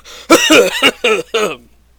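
A person in a tabletop role-playing session coughs several times in quick succession, close and loud, with short gaps between harsh bursts and no talk over it.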